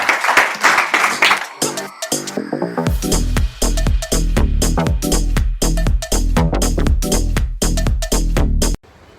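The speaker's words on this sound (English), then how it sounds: "Let's give a round of applause." Applause at an investor and real estate conference in Fort Lauderdale, with sharp individual claps and thumps standing out close by over a busier background, ending abruptly.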